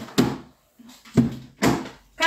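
Drawers opened and shut while hunting for shoes, four sharp wooden knocks and slides in quick irregular succession, close and fairly loud.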